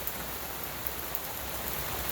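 Rain falls outdoors in a continuous, even hiss of drops at moderate loudness, with a few faint taps standing out and nobody speaking.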